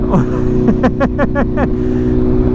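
A BMW M1000R sport motorcycle engine revs steadily while a rapid series of about five quick-shifter upshifts blips through at traffic speed, each gear change sharp and close, with faint talk underneath.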